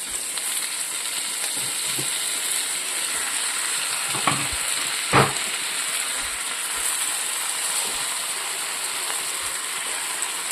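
Taro leaves and mushrooms fry with onions in a pan, sending up a continuous bright sizzle with a few spatula scrapes and one louder knock near the middle; no one speaks.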